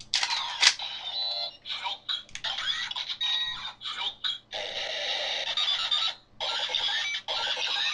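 A Kamen Rider Double Frogpod memory gadget toy gives off a busy string of electronic beeps, chirps and whirring tones, loud and close, with brief pauses between bursts.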